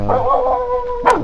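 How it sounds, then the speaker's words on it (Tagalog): A dog on a farm gives one drawn-out, howling bark followed by a short sharp yip, loud and close. "3 yung aso ko dito"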